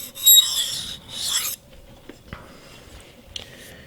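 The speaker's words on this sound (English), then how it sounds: "I'm just going to work it on that 1000 grit stone" A hand-forged custom knife blade is drawn across a 1000 grit whetstone in two short, close rasping strokes, followed by quiet scrapes and light taps.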